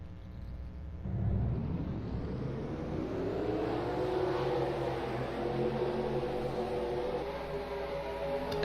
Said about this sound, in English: now let's get the cars rolling off.